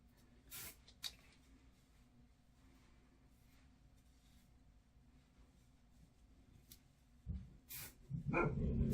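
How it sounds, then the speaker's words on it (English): Indoors, dogs give a few sharp barks that come in scattered bursts: one pair early, then more near the end, rising into louder overlapping barking against a quiet room. "my dogs are barking."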